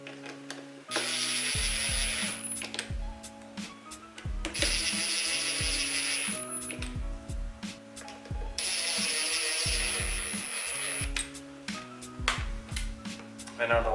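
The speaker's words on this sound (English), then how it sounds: "Tighten these screws back up." A ratchet clicks in quick repeated runs tightening screws on an aftermarket Spyder headlight of a 2011 Subaru STI, close and fairly loud, with short pauses and light metallic handling between bursts.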